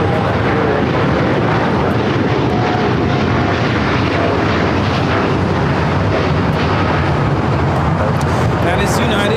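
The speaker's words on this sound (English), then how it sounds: "That is United Airlines 198 taking off to Shanghai on the 787-9 Dreamliner" United Airlines Boeing 787-9 Dreamliner taking off from LAX, a loud, continuous jet-engine roar with heavy low rumble filling the whole stretch, and voices faintly present underneath.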